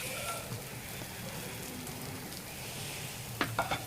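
Dosa batter sizzling steadily in oil on a hot pan with paneer masala being spread over it, a continuous close crackling fry with a few soft scraping taps near the end.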